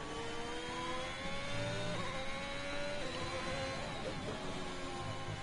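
Formula 1 car in a racing video game at Monza, through the Curva Grande and into the Della Roggia chicane: a continuous high engine whine with rising and falling pitch through gear changes, steady and fairly quiet.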